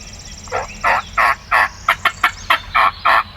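A wild turkey gobbles close by in the field during a spring hunt, a loud, rapid run of about ten throaty gobbling bursts over a quiet outdoor background.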